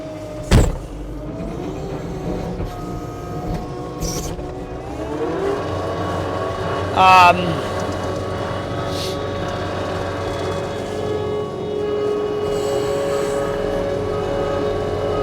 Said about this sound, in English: Machine again starts, runs, and works very well.